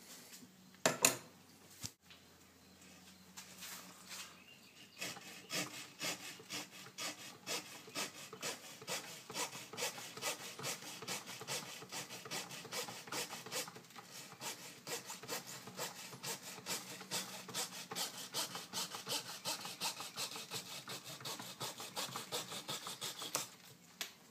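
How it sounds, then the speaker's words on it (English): A Dremel rotary tool hollows out bonsai wood in a steady, close-up run of rough rasping and grinding that pulses rhythmically for about twenty seconds after a couple of sharp knocks at the start. "I do think I'm going to get my Dremel and hollow that out a little bit."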